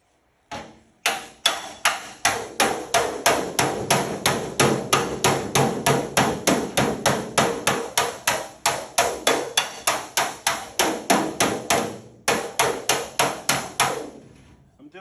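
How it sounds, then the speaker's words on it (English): A handmade slapping hammer beats a Porsche 928 aluminum fender panel in a fast, steady run of sharp, loud metallic slaps, pausing briefly near the end before resuming. "use this slapping hammer that I made."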